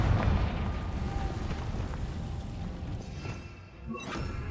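Confringo spell explosion in Hogwarts Legacy, a booming blast with a rumbling tail that fades and then gives way to further faint crackles, with no talk.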